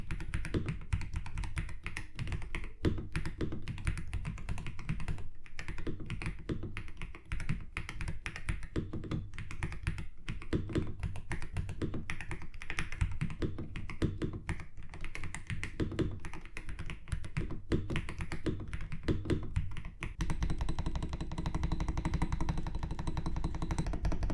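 Continuous rapid typing on an Epomaker HE80 Hall effect mechanical keyboard, close and steady, with dense overlapping key clacks and deeper thocks and no voices.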